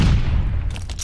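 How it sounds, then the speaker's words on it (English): A stun grenade goes off in a video game as one loud, close blast that rolls into a short rumbling decay with a few crackles trailing at the end. "Tossing stun grenade!"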